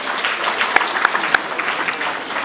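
Applause for a student at a merit award ceremony, a steady crowd of clapping with a few sharp, close individual claps standing out near the start.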